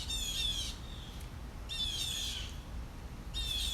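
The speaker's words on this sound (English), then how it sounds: "Those birds are having fun." Birds squawk and chirp outdoors in three short, bright bursts spaced a second or so apart, faint and distant over a low background hum.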